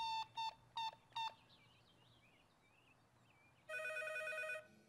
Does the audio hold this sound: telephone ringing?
yes